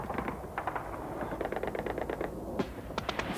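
Anti-aircraft flak fire aimed at a swooping Su-25 jet in the Soviet war in Afghanistan: rapid bursts of sharp reports over a constant rumbling din, clustered in fast rhythmic volleys with a few louder cracks standing out.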